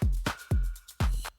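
Afro house drum pattern with a wood block at the start of the phrase: a few crisp, dry hits over a thumping kick in a short, steady rhythm, close and loud.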